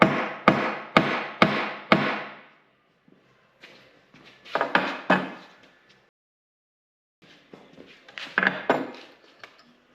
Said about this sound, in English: Essentially, we're just going to take and hammer this